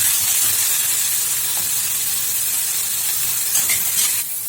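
Onions and green chilli sautéing in a pan, a loud, steady hiss and sizzle close by that holds evenly and drops slightly just before the end, with no talk.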